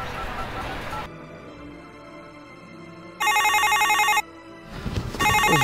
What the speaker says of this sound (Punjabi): ਮੈਂ ਨਾ ਦੁਬਾਰਾ ਲਗਾ ਕੇ ਦੇਖਦੀ ਹਾਂ ਇਹਨਾਂ ਨੂੰ ਫੋਨ